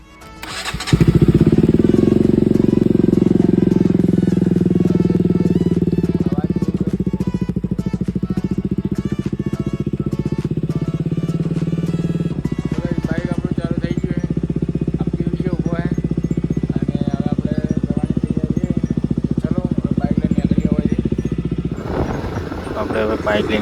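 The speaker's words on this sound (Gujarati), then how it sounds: "તો ચાલુ કરીએ બાઇકને હવે." A motorcycle engine starts and then runs steadily with a loud, close drone as the bike rides along, with speech occurring over it.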